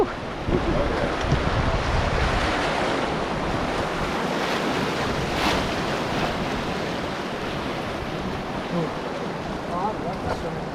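Whitewater on the Salt River rushes and splashes continuously around a raft carrying kids, a loud, steady churning roar mixed with wind buffeting the microphone and faint voices underneath.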